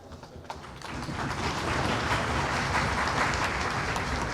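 Hearty applause fills a debating contest hall in Faisalabad, rising from scattered claps into a steady, dense wash of clapping that holds loud and even throughout, with no talk over it.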